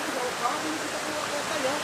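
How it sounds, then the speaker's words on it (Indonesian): River water rushes steadily through a forest in West Java, a dense continuous wash of flowing water close by, with a voice talking faintly beneath it. "Jadi kita menyusuri sungai ini ya."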